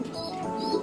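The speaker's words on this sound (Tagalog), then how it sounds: "Ito mga kalapatid." Pigeons cooing, imported and local birds together, a soft low murmuring call close by, lasting under a second.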